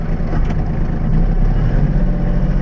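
Kubota LX2610 compact tractor on chained, studded tires in low-range four-wheel assist, climbing a steep snowy hill toward an off-grid cabin; a loud, steady, close engine drone with low rumble throughout, no talking.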